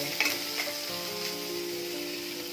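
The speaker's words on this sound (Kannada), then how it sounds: "ಹಸಿಮೆಣಸಿನಕಾಯಿ ಈರುಳ್ಳಿ ಫ್ರೈ ಮಾಡ್ತಾ ಇದ್ದೀನಿ" Green chilies and onions fry in a pan, a close, steady sizzle with a few light stirring taps early on, no voices.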